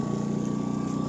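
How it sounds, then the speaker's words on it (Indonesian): A Loncin 2000i portable generator runs at a steady pace, giving a close, even engine drone with a constant high tone riding on top and no variation over a short stretch. "Kita listriknya menggunakan genset"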